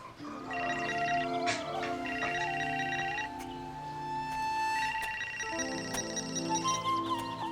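A phone ringtone plays a tinny repeating electronic melody at moderate volume, cycling through its tune without interruption.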